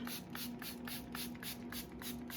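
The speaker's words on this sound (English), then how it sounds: "I'm gonna start spraying the dye into the shirt" Quick repeated hisses from a spray bottle spraying tie dye onto a shirt, about nine short bursts in a steady rhythm, close and fairly quiet with no talking.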